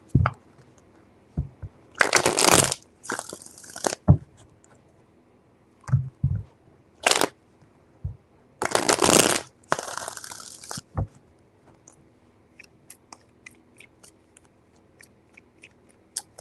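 Tarot cards shuffled by hand in several bursts of riffling and bridging, broken by short taps and soft handling clicks and quiet pauses between, close and clear with no talking.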